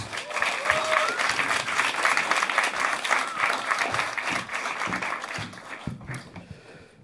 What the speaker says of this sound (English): big round of applause for your next comic up, Mr. Zac Brooks.